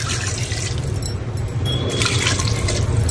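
Water pours steadily into a pot of rice for chicken biryani with a continuous splashing, gurgling rush, fairly close and loud.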